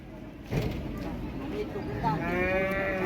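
A cow at a busy village cattle market in Cumilla, Bangladesh, gives a long, fairly close moo near the end, over a murmur of crowd noise and nearby voices.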